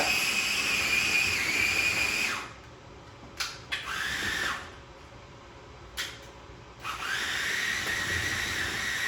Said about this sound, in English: let me blend some on camera